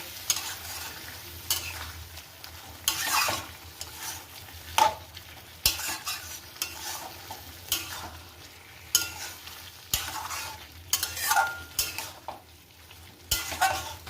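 Spices, turmeric and halim mixed masala stir-fried in a pan, with repeated stirring scrapes and clinks of a utensil over a soft sizzle, close and uneven in rhythm with no talking.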